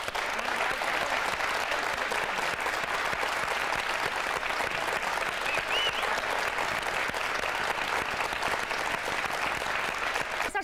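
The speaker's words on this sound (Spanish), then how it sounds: "Vamos a darle nuestra aplauso." A live audience applauds steadily for about ten seconds at a Spanish tribute event, a dense, even wash of many clapping hands with no speech over it.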